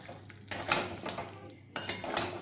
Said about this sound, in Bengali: এবার এখানে সেদ্ধ আলুগুলো দিয়ে দেবো।